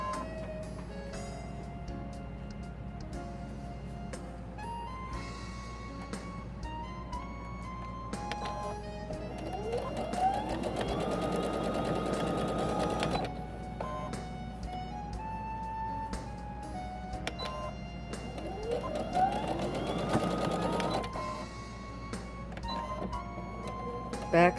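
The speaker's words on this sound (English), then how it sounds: "I've started sewing up the other side" A home sewing machine stitches a hanging oven door towel in quiet, intermittent runs, its motor whirring and rising in pitch during two longer bursts between pauses and small handling clicks.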